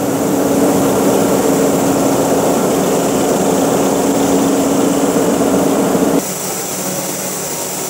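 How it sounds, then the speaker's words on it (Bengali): An elastic thread twisting machine runs with a steady, loud mechanical drone and a constant pitched whine. Near the end the level drops slightly and stays even, with no talking over it. "আমাদের যে এলাস্টিক থ্রেড হয় এটা হচ্ছে এই মেশিন, এটা টুইস্টিং করে।"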